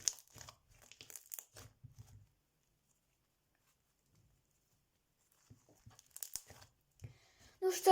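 Crunchy slime is squeezed in short bursts of crackling and crinkling, quiet and close, separated by a long silent pause, with faint talking in places.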